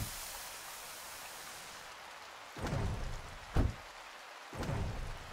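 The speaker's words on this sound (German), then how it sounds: "Es regnet, es regnet." Rain falling in the blacksmith video game Blacksmith Master, a steady soft hiss of rainfall with a few low rumbling swells like distant thunder, faint and without voices.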